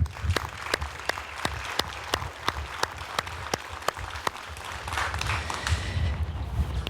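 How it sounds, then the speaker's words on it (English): Audience applause at a US Air Force basic military training graduation ceremony, steady clapping from a large crowd with sharp individual claps standing out, swelling louder toward the end. "I'd like to give you all a round of applause and say thank you."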